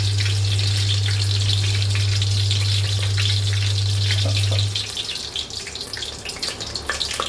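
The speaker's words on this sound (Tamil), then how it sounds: "கடுகு பொரியுது." Mustard seeds splutter in hot oil while a brinjal dish is being cooked, a continuous, close crackling sizzle. A steady low hum runs under it and cuts out partway through.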